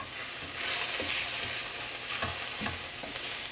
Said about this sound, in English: All right, so we're mixing this around, getting it all incorporated